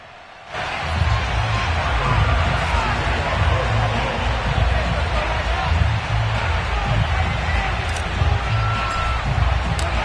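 A packed Buffalo stadium crowd roars in an EA Sports NFL video game as the Bills take the field against the Miami Dolphins; the dense, steady wash of cheering swells in after a brief quiet start and holds without a break.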